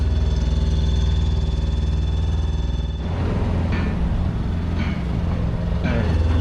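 A sailboat's inboard engine runs steadily at about 2400 RPM under motor in fog, a loud continuous drone with a harmonic hum that carries on under faint voices and some brief bumps.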